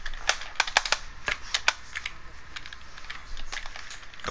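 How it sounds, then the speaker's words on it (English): Sharp computer keyboard keystrokes and mouse clicks during PC gaming, irregular bursts of close, crisp taps with short pauses, alone without talk. "I'm playing on mouse and keyboard right now."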